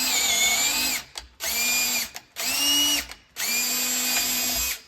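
A drill fitted with a combination drill-tap bit bores into 3/16 steel plate in four loud, steady whining runs, each cut off by a short pause and a faint click, with the motor pitch holding level throughout.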